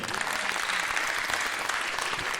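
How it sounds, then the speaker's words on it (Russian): Dense, continuous applause from a comedy-club audience at a stand-up show, a steady even wash of many hands clapping together throughout, moderately loud with no talk over it. "Мне кажется, они заслуживают аплодисментов."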